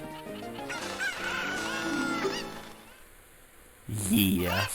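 Chickens in Zelda Ocarina of Time give a busy run of honking, clucking calls with pitch swoops, then a brief lull and a louder burst of squawks near the end.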